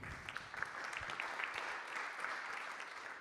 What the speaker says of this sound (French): Je pense que vous pouvez l'applaudir à nouveau.